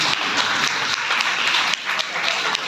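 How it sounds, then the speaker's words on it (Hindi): Staff clap steadily to welcome parents at a school ceremony for CBSE Class X 2022 results, a moderately loud indoor round of applause lasting throughout with slight dips in intensity. "हमारे जितने भी स्टाफ हैं तालियों के साथ इन अभिभावकों का स्वागत करें"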